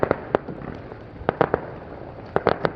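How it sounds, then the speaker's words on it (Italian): Fireworks going off at night near a marina at Viareggio on the Tuscan coast: scattered sharp pops and crackling bursts, some in quick clusters, over a steady outdoor background. "C'è già chi fa dei fuochi d'artificio così, tanto per dire."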